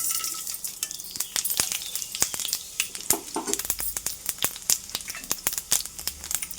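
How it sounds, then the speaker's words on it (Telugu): Tempering seeds crackle and pop in hot oil in a kitchen pan, with dense, irregular sharp snaps over a continuous sizzle and occasional scrapes of stirring. "చూడండి, పోపు గింజలు వేస్తున్నాను"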